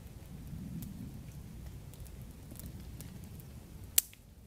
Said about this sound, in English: Once it started raining, it tends to rain days at a time.